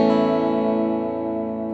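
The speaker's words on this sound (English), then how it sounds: "It's very, very nice, clean, Strat-y tones." A Fender-style 60s Stratocaster electric guitar rings out one sustained clean chord with a rich, steady harmonic tone, loud and alone, slowly fading over less than two seconds.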